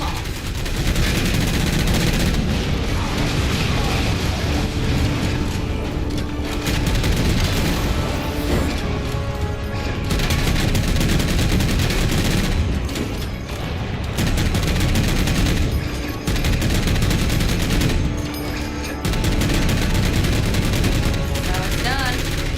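Continuous turret gunfire and booming blasts in Halo 4, a dense, loud barrage of rapid shots and explosions running the whole length with little pause.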